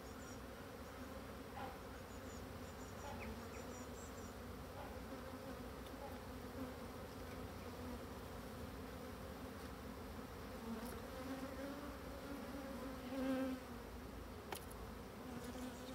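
An agitated colony of black honeybees buzzes in a steady, dense drone during a hive inspection, close and continuous, with a few higher whining passes from individual bees rising briefly above the swarm.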